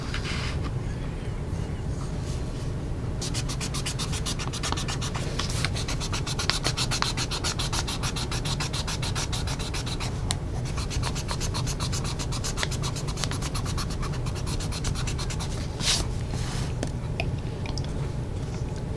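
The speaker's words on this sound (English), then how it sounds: "Let's try some erasing." Pencil-top eraser on a Dixon Professional Fashion HB pencil rubbing back and forth over paper, a steady close dry scrubbing rasp that continues without pause, alone with no voices.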